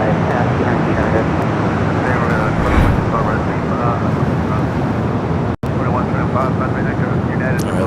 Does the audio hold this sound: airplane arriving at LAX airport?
yes